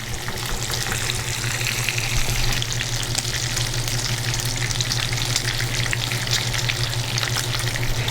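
Brown sugar, rum and maple syrup sauce sizzles and bubbles steadily in a pan over medium-high heat, a constant close frying hiss that runs unbroken throughout.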